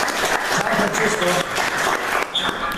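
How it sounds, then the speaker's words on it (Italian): Audience applause fills an auditorium concert hall, a dense, steady clapping that runs loud and continuous for a few seconds with no break. "Sergio Rodriguez, al quale facciamo un applauso"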